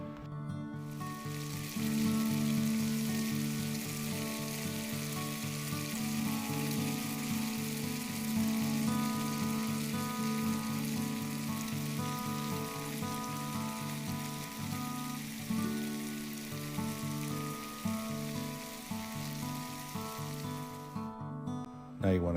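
Breakfast sausage browns over medium heat in a pan, giving a continuous, even sizzle that holds steady for the whole stretch, with faint tonal sound running beneath it.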